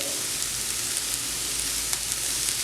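Spring onion and capsicum sizzle steadily in a hot pan for Kerala restaurant-style chilli fish, a loud continuous frying hiss with faint crackles throughout.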